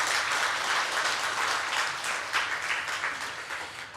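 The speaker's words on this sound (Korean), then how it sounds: "한번 격려의 박수를 한번 쳐주겠습니다" A church congregation claps in encouragement, a warm, continuous round of applause that gradually tapers and softens toward the end.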